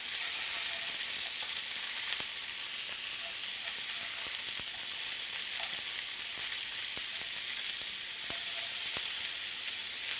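Halibut pieces fry in a pan with a continuous bright sizzle and scattered small pops and crackles throughout, close and even.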